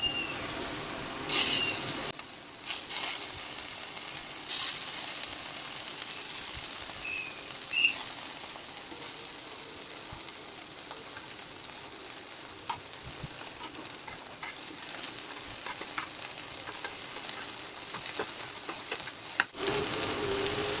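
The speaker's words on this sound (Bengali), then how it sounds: "দেখেন চাপার শুটকিটা আমি ভালো করে ভেজে নিয়েছি ভেঙে ছিঁড়ে" Chepa shutki dried fish frying in oil with pointed gourd peels in a pan, giving a faint, steady sizzle with scattered crackles and occasional stirring clinks over a long stretch.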